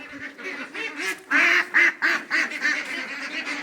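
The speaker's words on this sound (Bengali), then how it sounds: "আমি হাঁসগুলোকে এবার খুলে দেবো, তারা বেরোবে আর চলে যাবে খাবার খেতে।" Several ducks on a duck farm quack in quick bursts as they are let out of their pen, close by, overlapping in a noisy chatter.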